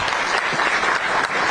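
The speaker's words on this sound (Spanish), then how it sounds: "Un aplauso." A crowd applauds steadily, a dense wash of clapping that holds at even loudness throughout the short stretch.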